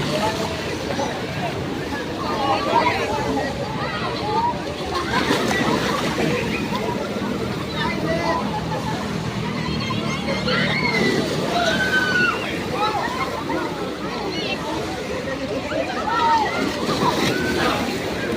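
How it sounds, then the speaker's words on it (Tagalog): Rough sea waves slosh and splash continuously in strong surf, a loud, steady wash of water with occasional bigger surges, while several people talk and shout excitedly over it. "palakas na palakas ang alon"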